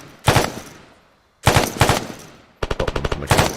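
Gunfire in the video game Arma 3 sounds as three loud bursts of automatic fire, the last a rapid rattling string, separated by short quiet gaps.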